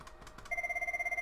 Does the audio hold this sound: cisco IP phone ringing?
yes